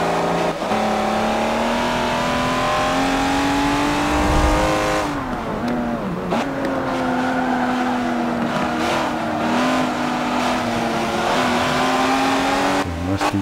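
Several race cars roar together in a racing video game on the Xbox One X, the engines holding a steady, loud drone that rises and dips as they accelerate, with a brief tire squeal along the way.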